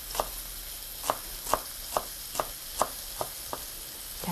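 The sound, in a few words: knife slicing green onions about 2mm thick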